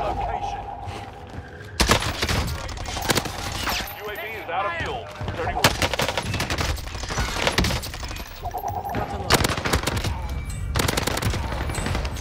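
Automatic gunfire in the video game Call of Duty on Rebirth Island: loud rapid bursts of shots repeating across the span, with thumps and impacts, mixed with game sounds and a player talking.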